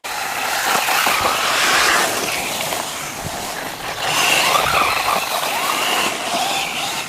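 A brushless 1/16-scale Subida S909PR RC truggy runs flat out, its high-pitched whine rising and falling in two loud bursts as it races and bounces, with no talk over it.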